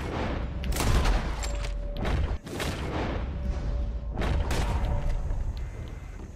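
Repeated gunshots in Red Dead Redemption 2, a scattered volley of loud, sharp cracks with booming tails, several shots overlapping across the stretch with a short lull midway.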